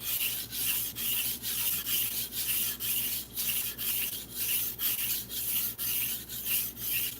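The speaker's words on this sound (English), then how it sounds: "that's basically the stone wearing off on the metal, and also the metal kind of wearing off a little bit" A kitchen knife is drawn repeatedly across a wet two-sided whetstone, making rhythmic, close, rasping strokes about twice a second, steady and alone.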